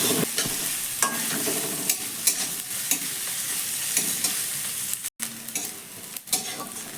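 Chopped onion with whole fennel seeds stir-fried in oil, giving a steady crackling sizzle with repeated scraping strokes of a spoon against the pan, close and moderately loud throughout.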